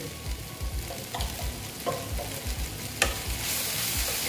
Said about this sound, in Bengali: দিয়ে আবার আমি একটু নেড়ে চেড়ে নিচ্ছি।